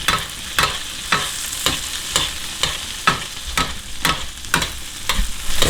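A beef steak sizzles in a hot pan, with steady frying hiss broken by regular scraping stirs and tosses about every half second.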